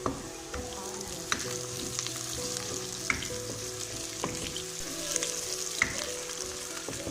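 Steady crackling sizzle of ginger and garlic frying with onions in a hot pan, with occasional sharp pops and faint scraping, continuous and close.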